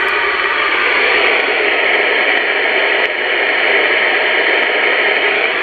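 Radio interference on CB channel 27, a loud continuous hiss of broadband static that stays steady and unbroken, with no voice coming through.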